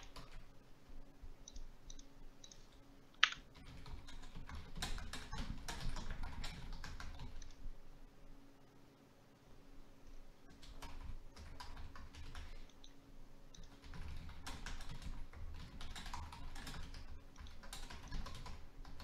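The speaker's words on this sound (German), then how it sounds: "Na, was tippst du denn da fein?" Near, continuous computer keyboard typing with fast uneven clatter in repeated bursts and short pauses, one sharper click standing out, over a quiet room hum during an online chess stream.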